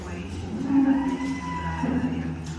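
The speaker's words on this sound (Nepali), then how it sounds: "त्यसैले गाईहरू कराइरहेको छन्" A low, drawn-out cow moo sounds twice inside a cow farm over a steady background hum, the first call longer and louder than the second.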